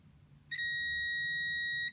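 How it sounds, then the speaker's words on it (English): A multimeter in continuity mode, testing a soldered connector pin, gives one steady, clear high-pitched tone lasting well over a second, close and alone after a brief quiet moment. "So I'm just gonna use another meter because I like the beep. So we get a beep."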